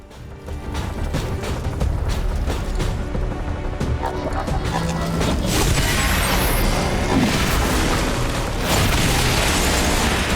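A Bombard grenadier ability explosion in XCOM 2, a loud, dense blast and rumble that fills the clip, with booming impacts and a sustained roar of debris and game sound.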